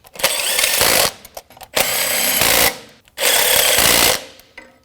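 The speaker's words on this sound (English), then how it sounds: "Snug these bolts up." Power tool snugging camshaft position sensor bolts on a 2011-2016 Ford F-350 with the 6.2L V8, three loud whirring bursts of about a second each separated by short pauses, close by with no talk.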